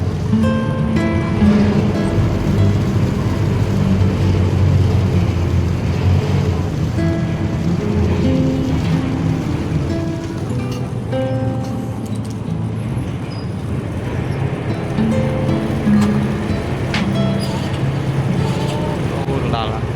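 A ferry crossing the river toward Kampong Chhnang province, Cambodia, gives a steady, close, broadband rumble of engine and moving water that runs throughout, with vehicle noise and faint voices mixed in.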